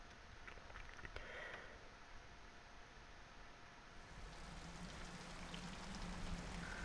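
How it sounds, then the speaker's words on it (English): Steady rain falls in a video game scene, a soft continuous patter and hiss that stays faint and even throughout with no talk over it. "Why is it always raining?"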